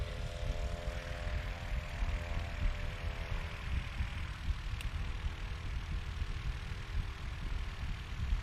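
A STOL airplane's propeller engine roars steadily during a takeoff at a short-takeoff-and-landing competition practice, loud and continuous with a droning tonal hum that fades slightly as it climbs away.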